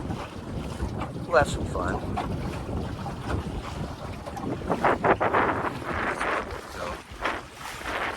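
Wind buffeting a small Scamp sailboat on a lake, a loud, gusty roar of wind noise with water lapping underneath, and someone speaking briefly over it.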